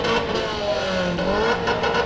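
Enduro race cars at Bakersfield Speedway roaring past in a dense, continuous wash of mid-range engine noise, with revving from several cars at once and no break.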